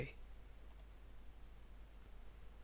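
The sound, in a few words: computer mouse click in AutoCAD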